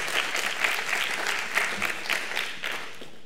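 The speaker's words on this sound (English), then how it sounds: "Let's give a warm round of applause for Mike." Audience applause at a math education Ignite talk event, a steady dense clapping from a crowd that fills the room, fairly loud and continuous throughout.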